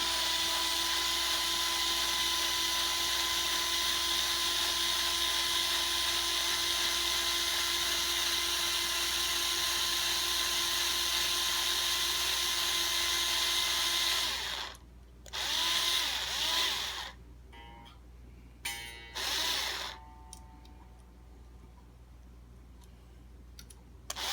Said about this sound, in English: get the drill, and we'll roll it in